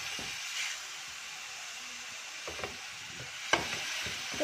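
Chicken frying in oil for bread chicken cones, a steady close sizzle with a few soft stirring scrapes and one sharper clink, heard alone.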